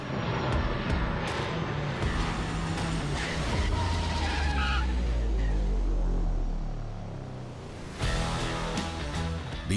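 A fixed-wing aircraft at Indira Gandhi International Airport roars steadily and loudly with a deep engine rumble, easing off briefly near the end before a renewed burst.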